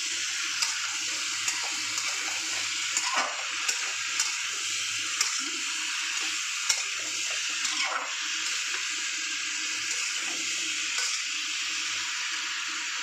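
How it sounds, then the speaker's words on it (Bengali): Mixed vegetables with lentil fritters fry in a pan for a vegetarian curry, giving a steady bright hiss with soft, scattered scraping clicks as they are stirred. No one talks. "এবার ভালো করে কষতে দেবো।"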